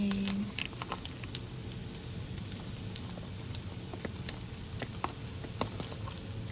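Quiet, steady sizzle of ginger and scallion stir-frying in oil in a wok, with faint crackles and a few soft scraping sounds.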